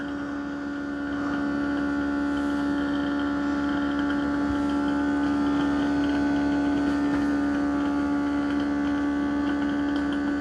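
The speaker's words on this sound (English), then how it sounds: "Again, I hear kind of a pump." A Keurig K-Brew+Chill coffee maker runs its pump with a steady, droning hum that swells slightly after the first second and then holds level, close and continuous, with no voices.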